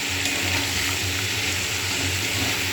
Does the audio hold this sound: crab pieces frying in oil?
yes